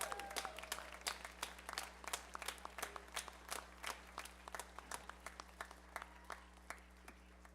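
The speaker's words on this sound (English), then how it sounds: "How about another round of applause for Mr." Scattered applause from a school spring band concert audience honoring a tuba soloist, distinct individual claps spread across the room at moderate distance, steady throughout with a low hum underneath.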